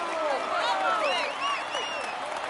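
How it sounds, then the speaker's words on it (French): Stadium crowd applause and cheering in the Tour de France 2016 cycling video game, a steady dense wash of clapping layered with whistles, under a commentator speaking. "vous pouvez l'applaudir bien fort"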